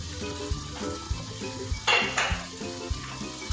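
Bitter gourd and chicken with lemon juice being stirred and fried in a pot, a sizzling hiss with clanking utensil strikes against the pan in an irregular rhythm, close by, with a brief louder burst midway.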